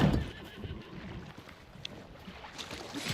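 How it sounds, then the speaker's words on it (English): A horse neighs in the survival game Icarus, a brief whinny at the very start that fades into low rumbling ambient noise with faint scattered clops, quiet and without talk. "Dude, that horse has gotta go."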